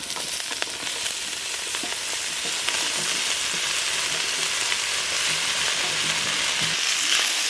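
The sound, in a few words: chopped potatoes and fenugreek leaves frying in a pan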